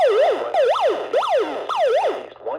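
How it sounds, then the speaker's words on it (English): A Discovery Channel BD4772 weather radio sounds its alert siren: a loud, close electronic tone sweeping up and down in a steady repeating wail, about four cycles, with no talking. "Listen to that siren."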